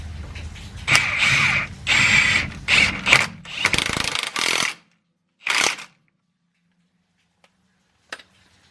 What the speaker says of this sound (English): we're going to grab the impact. Go ahead and run this bolt in.